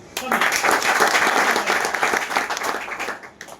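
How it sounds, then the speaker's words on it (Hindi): Loud, dense applause from an audience at a party officials' meeting of the Chulkana Dham mandal on GT Road, sustained clapping swelling quickly and holding steady before tapering near the end. "जोरदार ताली एक बार"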